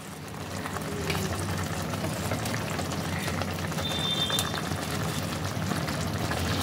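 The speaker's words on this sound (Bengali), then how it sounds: "ঝোলটা ফুটতে শুরু করে দিয়েছে।" Fish curry sauce bubbling at a steady boil in a pan, a continuous low simmering burble with soft liquid pops, fairly close and even throughout.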